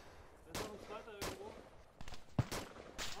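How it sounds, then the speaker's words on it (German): Gunfire in a shooter video game: several sharp reports, some distant and some close, scattered irregularly, with one loud crack near the end and faint talk between shots. "Irgendwo schießt da noch einer."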